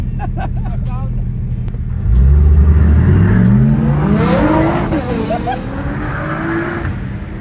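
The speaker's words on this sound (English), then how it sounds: "It has to be the loudest V10 ever." Twin-turbo Lamborghini V10 revving hard on Los Angeles city streets, a loud close roar climbing through rising gear sweeps after a brief lull, with voices briefly at the start.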